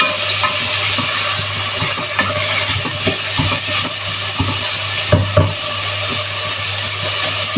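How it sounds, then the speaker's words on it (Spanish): Vegetables for Italian minestrone sautéing and being stirred in a pan, with a steady sizzle broken by scraping stir strokes, close and continuous without talk. "Rehogamos bien todo."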